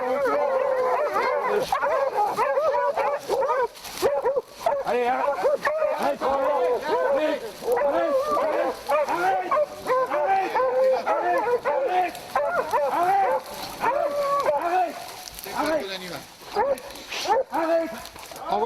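A hunting pack of hounds gives voice during a fox hunt in the Aube countryside, a dense, continuous chorus of overlapping barks, yelps and howls that stays loud throughout, with people talking and calling over the dogs.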